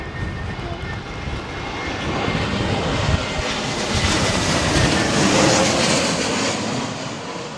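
A Lufthansa Airbus A380 comes in to land at Heathrow in high, gusting winds, its jet engines a loud, steady roar that swells gradually and stays close throughout, with no voices.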